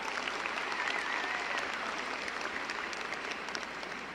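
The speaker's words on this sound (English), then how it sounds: "give him a round of applause" Warm, steady applause from a crowd at a high school graduation, fairly distant and even throughout, with no speech over it.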